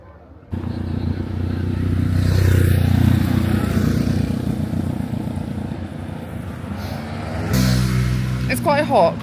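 A bus rolls past on a roadside near Lake Atitlan, Guatemala, its loud, heavy engine rumble swelling and holding for several seconds before another surge of traffic noise near the end.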